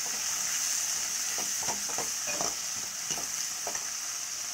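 Tomatoes soften in a hot pan with a steady, even sizzle and crackle, punctuated by faint scrapes of a stirring spoon, close and continuous without any talking.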